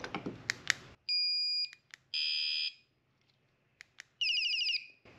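A Guardian Alarms Cat Alarm PRO catalytic converter alarm sounds loud, piercing electronic siren tones in short bursts separated by silence, with a few clicks and beeps between them.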